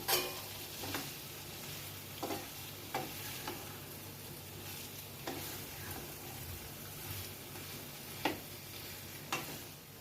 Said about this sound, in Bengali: এটা ভালো করে আলু পটলের সাথে মশলাটা একটু কষিয়ে নেব